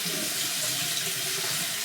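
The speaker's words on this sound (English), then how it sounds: "the first thing I like to do is just literally clean my face with just regular water" Tap water runs steadily into a bathroom sink while someone washes their face, a continuous close splashing flow with no voices.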